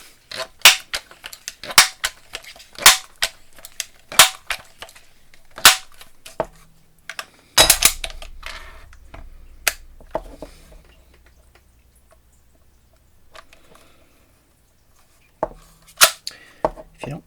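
A Crosman 760 Pumpmaster air rifle is pumped in a string of sharp, evenly spaced clacks, followed by a loud snapping shot, a quiet pause, then a few more clicks, all close by.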